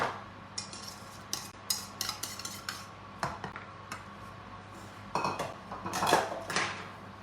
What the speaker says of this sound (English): We're going to drop in the cherries.